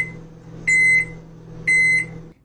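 A microwave oven hums with a low steady drone while two loud bright beeps sound about a second apart, each held roughly a third of a second, before the hum cuts off.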